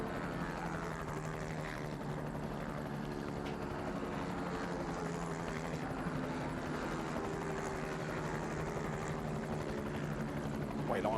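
A helicopter films a quad race on the sand at Le Touquet, its rotor and engine holding a steady, loud, unbroken drone throughout.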